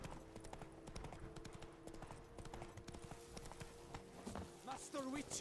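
Hooves of Roach, a horse in The Witcher 3, clip-clop in a steady trotting rhythm throughout, with someone talking over them and a brief whinny-like call near the end.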